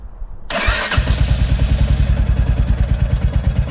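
A Royal Enfield 350 motorcycle engine cranks and catches, then settles into a loud, steady, rhythmic idle close by.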